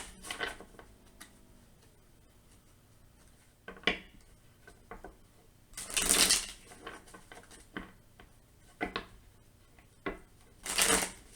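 Tarot cards are shuffled in quick riffling bursts, a few sharp flurries separated by lighter taps and card handling, close and fairly quiet.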